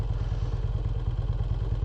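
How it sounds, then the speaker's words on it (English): An ARCH KRGT 1 V-twin motorcycle with a dry clutch and an engine of over 2 litres, heard on board as a steady, loud low rumble with a dense rapid clatter running throughout. "Dry clutch, which you can hear as soon as you let the clutch out."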